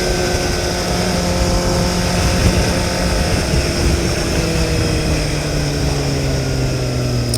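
A moving truck rolling past a rider on a motorcycle on the road, loud continuous engine and road roar with shifting tones, close by, no talk over it.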